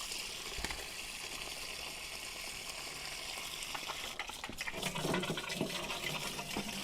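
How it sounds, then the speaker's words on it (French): Water from a garden hose with a Rainpoint watering timer pours steadily into a watering can, a continuous rushing flow that grows louder and more splashy near the end. "Voilà, donc là je vais remplir l'arrosoir."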